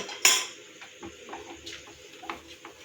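A spoon clinks and scrapes against a pan as roasted cashews and raisins are stirred into thick peanut halwa made with ghee; there is one sharp metallic knock, then softer intermittent scraping, close by and with no talk.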